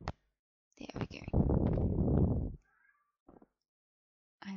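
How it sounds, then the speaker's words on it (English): A close, drawn-out meow from a cat, followed by a couple of short, quieter chirping sounds in an otherwise silent room. "I'm sorry if you hear meowing, it's just my cat."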